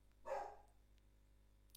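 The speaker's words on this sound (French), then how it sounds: "Ça, c'était mon chien." A single dog bark indoors, picked up through a computer's sound system microphone, short and moderately loud against a quiet background hum.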